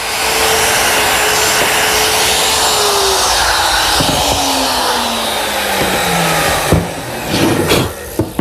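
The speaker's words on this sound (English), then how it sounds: "Using my router and a jig, I'm able to make a series of holes which is going to receive the clips to support the shelves." A woodworking router cuts a series of shelf-clip holes through a jig in a teak bar cabinet part, a loud whining roar that slowly drops in pitch, followed by a few sharp knocks and clatters as it stops.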